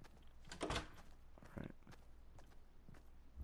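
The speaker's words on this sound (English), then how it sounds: "Hang on, I'm gonna close this door." Door closing in Fortnite Battle Royale gameplay: a few thumping, creaking knocks and bumps spread over a few seconds, fairly faint and close, with quiet in-game footsteps between them and no talking.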